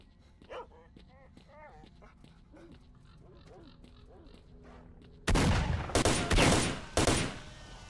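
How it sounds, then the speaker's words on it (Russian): A dog barks in the S.T.A.L.K.E.R. Shadow of Chernobyl video game. The barks are faint and distant under someone talking, then loud bursts of gunfire take over near the end. "Где-то собака лает"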